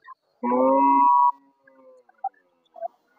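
A milk cow at a cattle market in Goshairhat, Shariatpur, lets out one short, tonal moo, close and clear against a quiet background, followed by a few faint, scattered small noises.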